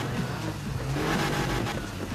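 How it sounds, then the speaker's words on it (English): A car engine in the Need for Speed Heat racing game revs in a steady, loud, continuous roar that fills the clip without any talk. "Yeah, that's my engine. Everybody's scared of my engine."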